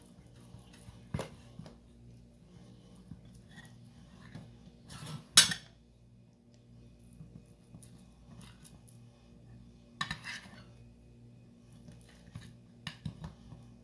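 A knife clinks against a metal pan while cutting milk cake, with sparse scraping taps and one sharper, louder clatter, all fairly quiet with long pauses between.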